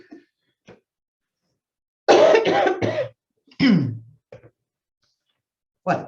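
A few short, sharp coughs and a throat clear sound close by, separated by silence, with a brief spoken word near the end.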